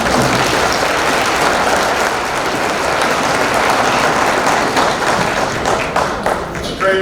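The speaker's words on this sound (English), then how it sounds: "give the folks here at the Convention Center a nice round of applause" A banquet crowd at a convention center gives a loud round of applause, dense, close clapping sustained for about seven seconds and tapering slightly near the end.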